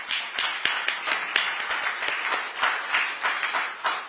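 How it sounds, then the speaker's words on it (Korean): An audience at a political party launch ceremony claps steadily, with individual hand claps standing out sharply in a fairly even rhythm against a softer background of applause. "다시 한번 박수 부탁드립니다."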